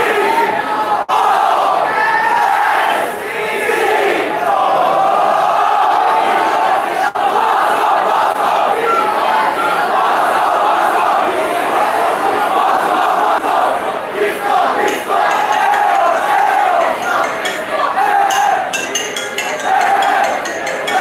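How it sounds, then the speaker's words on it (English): Large audience at a school dance performance cheering and applauding, a loud, continuous roar of claps and shouts with no break. "So a huge round of applause for them."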